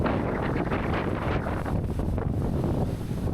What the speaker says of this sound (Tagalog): malakas pa rin yung uh, tawag nito, yung hangin.